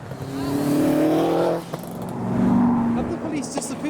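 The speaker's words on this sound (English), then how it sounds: "Turbos! It was turbos." Turbocharged modified cars pulling away from a car show, loud near engine revs rising and falling with whooshing turbo noise, and people talk and shout over it.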